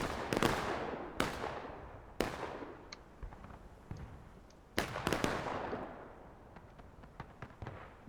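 A line of soldiers fires musket volleys in a Civil War battle game. Sharp, booming cracks arrive a few seconds apart and echo into a rolling tail, mixed with scattered distant pops.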